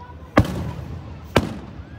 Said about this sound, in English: now I'm back filming fireworks